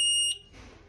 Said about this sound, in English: So it'll beep saying there's a fire, saying there's a supply issue.